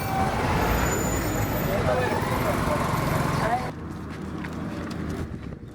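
Trucks and road traffic rumble on arrival at Karakorum where the road has given out, a dense engine and tyre noise that drops off abruptly partway through, with voices talking over it.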